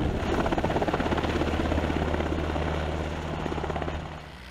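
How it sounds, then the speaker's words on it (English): A UH-60 Black Hawk helicopter's rotor thuds steadily and loudly with a low engine drone, close by, fading slightly at the end. "the two UH-60 Black Hawk helicopters brought in by the Alaska Army National Guard"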